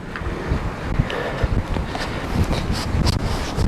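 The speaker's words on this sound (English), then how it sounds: "There is a bit of wind there." Gusty wind buffeting the microphone on a walk along an old hilltop wall, a rough low rumble with uneven surges and thumps throughout, fairly loud and with no speech.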